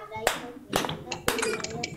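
Three sharp hand claps, evenly spaced, from children playing a clapping game in an online class, each clap crisp and close with faint background voices around them.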